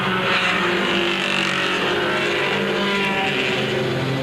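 Race cars roaring around the oval at Beech Ridge Motor Speedway in a 10-lap 1988 Pine Tree 100 event, a loud continuous engine drone from the pack running single file.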